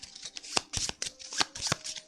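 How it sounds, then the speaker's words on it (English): Board game cards riffle-shuffled by hand in quick bursts, a run of crisp papery flutters and snaps close by, loud and clear with no talking over them. "Shuffle, shuffle, shuffle."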